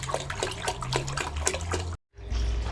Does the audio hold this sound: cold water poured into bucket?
yes